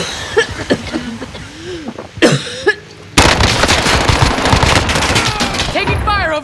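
Gunfire in Call of Duty Warzone at the Saltmine: loud scattered shots, then a dense, sustained barrage of rapid fire that dominates the second half, with brief voices early on.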